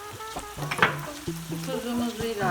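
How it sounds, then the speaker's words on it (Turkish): Rice and onions frying together in a pan for stuffed vine leaves in olive oil, a steady close sizzle with stirring scrapes and light pan knocks, no talking. "Pirinçlerimiz kavruluyor soğanla birlikte."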